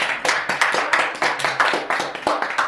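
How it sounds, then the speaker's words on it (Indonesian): A small audience clapping at a school talk event, loud, close and uneven individual claps with a distinct rhythmic pattern rather than a dense wash. "Tepuk tangan untuk Rahma Sarita"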